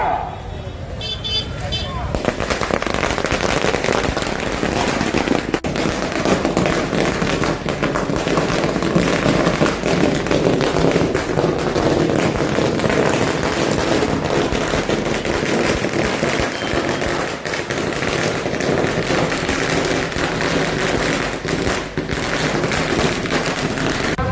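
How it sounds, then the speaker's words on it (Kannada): Firecrackers set off in celebration of a new chief minister, a dense, continuous crackle of bursts over the full stretch, loud and close, with a shorter clatter at the start and voices mixed in the din. "ಗಜಾನಾಳದಲ್ಲಿ ಈಗ ಪಟಾಕಿ ಸಿಡಿಸುವ ಕಾರ್ಯಕ್ರಮ"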